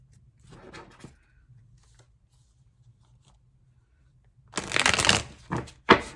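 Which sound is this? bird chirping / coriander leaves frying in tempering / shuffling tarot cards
shuffling tarot cards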